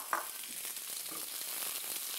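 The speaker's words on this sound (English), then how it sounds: "Let the mustard seeds crack, and we add shredded red cabbage" Shredded red cabbage hitting hot oil with crackling mustard seeds in a flat non-stick pan, a bright, steady sizzle with a small pop at the start, close and alone.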